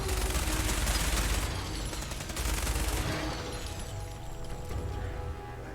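Loud sustained automatic gunfire in a Fallout 4 firefight, rapid shots blending into a dense roar that thins after a few seconds into scattered rattling.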